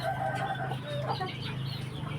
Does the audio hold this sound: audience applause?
no